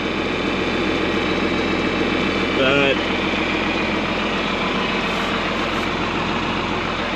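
A tractor engine drones steadily at close range with a mower attached to the PTO, a continuous low rumbling hum throughout, while a person speaks briefly over it.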